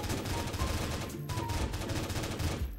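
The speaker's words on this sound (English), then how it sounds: "Wow, this gun is simply magnificent." Rapid bursts of gunfire from a gun in the Minecraft game, dense and continuous for nearly three seconds with a steady, loud, rattling texture and no talking.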